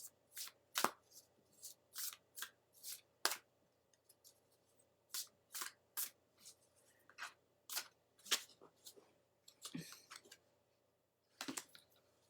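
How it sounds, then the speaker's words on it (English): Oracle cards being shuffled by hand, a rapid series of sharp papery riffles and snaps in separate bursts with short pauses, close and fairly quiet, with no talking. "I'm just going to give them a good shuffle here"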